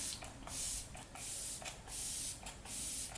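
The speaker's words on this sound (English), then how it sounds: "I'm gonna go ahead and set my face with my Flower Beauty setting spray" Several quick, close hissing bursts of a Flower Beauty setting spray pump on a face, about five short spritzes in a loose rhythm with brief pauses between.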